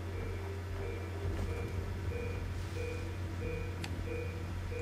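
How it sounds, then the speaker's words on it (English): Periodic electronic beeping from a package locator in the Far Cry 3 video game repeats at a steady rhythm over a constant low engine-like rumble, with no talking. "I'm listening to the beeping."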